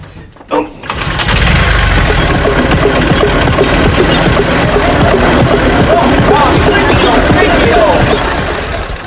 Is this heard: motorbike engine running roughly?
yes